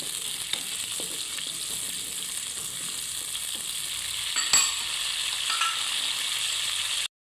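Cut green chillies fry in a pan for a bhuni moong dal, giving a steady close sizzle with a few light stirring scrapes, no voices, before cutting off abruptly.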